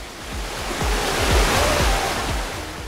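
Water flows along the bank of a clear river at a riverside campsite near Legok Gintung, giving a steady, close rush of splashing and gurgling with no voices.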